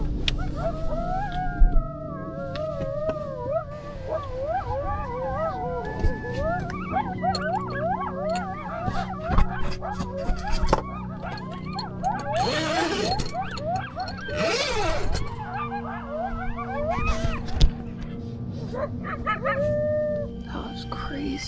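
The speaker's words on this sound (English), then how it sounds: "And that's when the coyotes started. One howl, then another." Several coyotes howl and yip around a forest campsite in overlapping, wavering calls that rise into a chorus, with occasional sharper barks over a steady low background hum.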